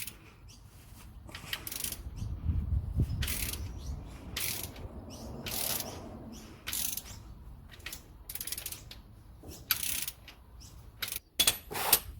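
A ratchet tightens a plug on the transfer case of a TL Hyundai Tucson, its pawl clicking in repeated short bursts close up, with no talk.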